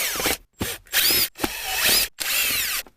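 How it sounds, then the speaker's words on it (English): Power drill backing Torx screws out of a GM vehicle's interior trim: several short, loud whirring bursts with pitch sweeps, separated by brief pauses, close and alone without talk. "we need to take all of these Torx screws out."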